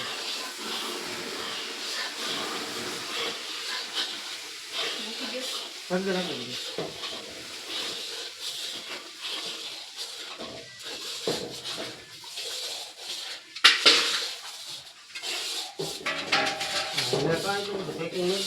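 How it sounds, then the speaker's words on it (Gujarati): Flour for Gujarati adadiya roasting in hot ghee over a low flame, a soft sizzle under repeated stirring and scraping, with a clink of utensils and people talking at times. "હવે ઘી ગરમ છે એમાં થાપો દીધો લોટ નાખી દો"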